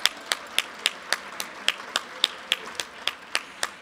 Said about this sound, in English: So we'd like to give an applause to Tracy Phillips.